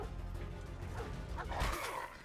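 A dog barks in a shooter game, gruff yelps over a dense, steady wash of game noise, with a louder burst near the end.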